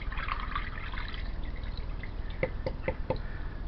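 Water trickles and drips out of the open pump filter of a blocked Hotpoint washing machine outdoors, at first a soft trickle and then four distinct drips in a row, quiet and close.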